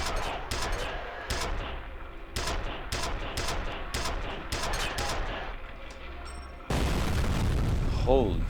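Grenade explosions and gunfire in a video game, a rapid run of sharp booming bursts and shots, followed by a louder, sustained blast near the end, with a voice also heard.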